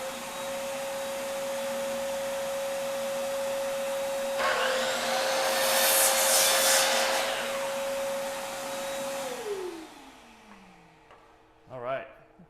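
Miter saw cutting wood for a birdhouse: a loud steady motor whine spins up, rises into a harsh cutting rasp for several seconds, then winds down with a falling pitch, followed by a brief voice.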